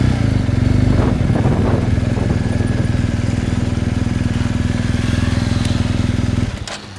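A BMW GS 1250 HP motorcycle rumbles loud and close, its engine note steady and throaty while riding before it drops away at the very end.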